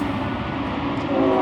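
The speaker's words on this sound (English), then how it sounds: "There's a train coming." A train rumbles past nearby, a steady low roar and rattle of wagons that swells slightly toward the end, with no voices.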